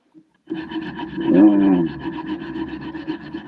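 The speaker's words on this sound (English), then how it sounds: "But removing polyurethane of a frame, it's a different sanding." Steady rough rasping of sandpaper removing polyurethane from a frame, continuous and fairly close, growing slightly louder in the middle before settling.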